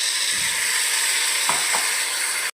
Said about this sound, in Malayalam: ഇതിലേക്ക് നമുക്ക് പുളിവെള്ളം ഒഴിച്ചു കൊടുക്കാം